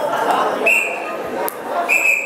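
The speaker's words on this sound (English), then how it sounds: "You start snapping, I start blowing the whistle." A referee-style whistle blown in short blasts during a high school comedy sports show, two sharp tones over a murmuring crowd in a gym.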